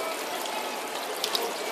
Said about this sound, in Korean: 이렇게 물소리를 들으면서 식물은 자동적으로 무럭무럭 자라고 있습니다.